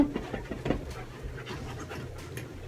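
A dog pants close by in quick, rhythmic breaths, fairly quiet and alone with no talking, stronger at first and then settling into a softer steady pant.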